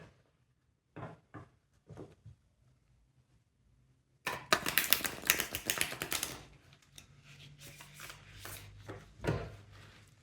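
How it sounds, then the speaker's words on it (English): A Wild and Unknown tarot deck is reshuffled with a few soft card taps first, then a dense burst of riffling and sliding cards. Quieter shuffling and handling follow, with no talk. "Just going to reshuffle the deck."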